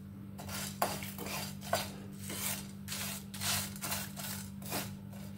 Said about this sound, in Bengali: তারপর এগুলো আস্তে আস্তে নেড়ে আমি একটু রোস্ট করে নেব